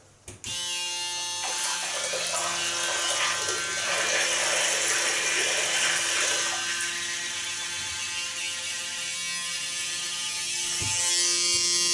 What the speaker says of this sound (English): they say rinse it with it running, so I'm going to do that now